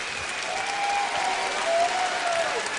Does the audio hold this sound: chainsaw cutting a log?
no